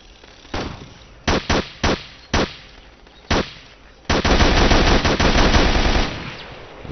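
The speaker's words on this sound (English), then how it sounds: "that's what I like to see, suppressive fire" Suppressive gunfire in the video game Ghost Recon Island Thunder: several short, sharp bursts, then a long sustained automatic volley, loud and close.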